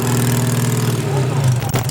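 A motorcycle engine rumbles steadily nearby at a vintage Citroën car meeting in Castagnaro, Italy, loud and continuous, with a low throbbing tone that shifts slightly near the end.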